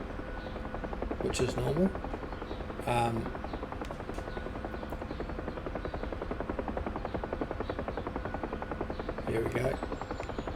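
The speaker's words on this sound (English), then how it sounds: "I'll release it now, and the helicopter will lurch up" A UH-1 Huey helicopter in the DCS flight sim spins up and lifts off, a steady loud rotor and turbine drone with rhythmic blade thumping that runs throughout, with someone talking over it at a few points.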